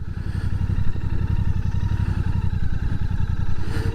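A Royal Enfield Bear 650 motorcycle loops through a tight figure-eight, its twin-cylinder engine thumping in a fast, even, close-up pulse that stays loud and steady throughout.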